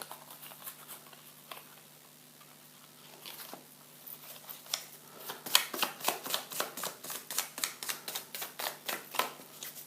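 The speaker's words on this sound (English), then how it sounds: "shuffle the new fate cards into the fate deck" Playing cards are shuffled nearby, quiet riffling at first, then a rapid run of crisp, rhythmic snaps growing louder toward the end.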